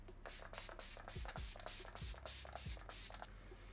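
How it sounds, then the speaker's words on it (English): XXFreeze Fix setting spray mists from a bottle in fine continuous bursts, several soft hissing sprays in quick succession, close and quiet with no talking. "I'm gonna go ahead and use some setting spray"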